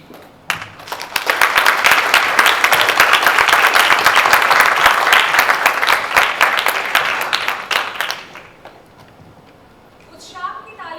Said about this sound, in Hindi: इस मोनोलॉग के बाद तालियां तो पक्का बजेगी।